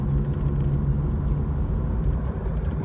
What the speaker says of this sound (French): Il y a un petit bruit encore de roulement